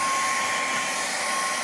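A steady, loud hair dryer blows into an aircraft intake continuously, with a constant whooshing hum and a faint whine, no voices.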